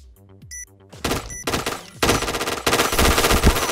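Rapid automatic gunfire from the online shooter Point Blank, loud and dense, with bursts starting around one second in and building into near-continuous rattling shots layered with game sound effects.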